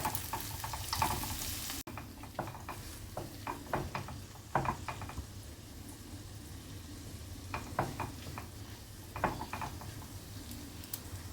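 Vegetables and rice frying in a pan for homemade paneer fried rice, giving a soft continuous sizzle broken by repeated scraping stirs and light utensil clicks, fairly quiet and with no talk.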